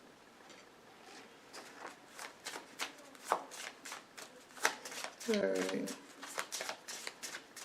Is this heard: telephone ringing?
no